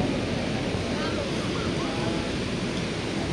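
Ocean waves at Boracay beach, a steady, loud, broad wash of surf with no break, heard up close, with faint voices in the background.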